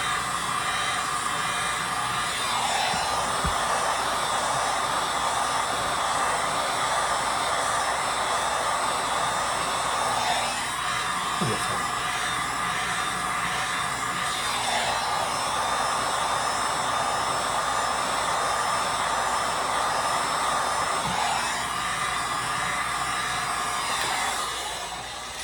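A heat gun blows a steady, loud, broadband roar across the bridge of a 1943 Martin D18 acoustic guitar, running continuously with slight dips in pitch as it is moved.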